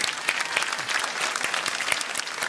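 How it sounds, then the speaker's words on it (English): Audience applause at a live Reform UK local election tour event in Essex, a steady dense wash of many hands clapping throughout, fairly loud and without talk. "Can we get a round of applause for that?"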